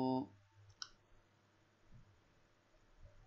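A computer mouse clicks a few times while working in Cinema 4D, giving sharp, faint, close clicks over a quiet background with no talking.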